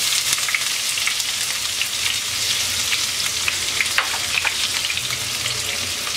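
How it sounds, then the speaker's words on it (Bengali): Chopped onions and whole cumin seeds hit hot oil for a shrimp curry, giving a loud, steady, close sizzle and crackle with faint stirring that holds evenly throughout. "মিডিয়াম সাইজের 2টা পেঁয়াজ কুচি দিয়ে দিচ্ছি।"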